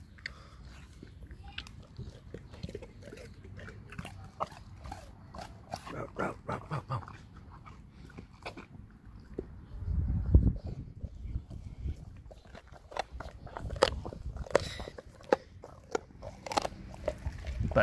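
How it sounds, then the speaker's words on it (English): Cane Corso dogs chew a frozen meat block with bones, giving sharp crunches and cracks in irregular bursts, close, with a heavier flurry midway and no talk. "Like dog crunching bones is the best sound music to my ears."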